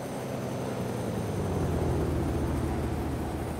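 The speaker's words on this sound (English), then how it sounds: "That's two planes, get out, get out." Two biplanes flying close by, a loud, steady engine and propeller drone with broadband rumble that swells slightly mid-clip.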